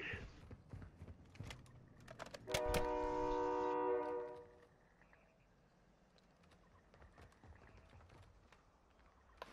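A train in a multiplayer shooter video game gives a loud, sustained horn blast over rumbling and clattering movement, then the noise drops to a low, steady background hum.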